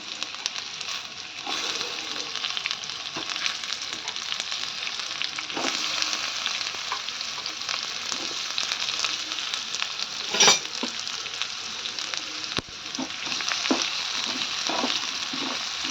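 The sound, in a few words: sliced onions frying in oil in a pan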